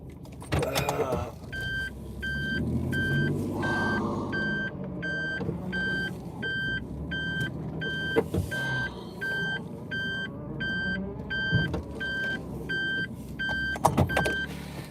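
A car reverses with its backup alarm sounding a steady, evenly spaced series of high electronic beeps over the low hum of the vehicle, with occasional clunks and louder knocks near the end.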